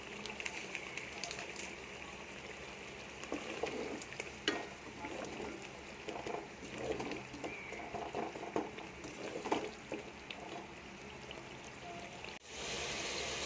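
Masala roasting and being stirred in a hot pan, a steady sizzle with scraping stir strokes and occasional louder spatters, close and moderately quiet.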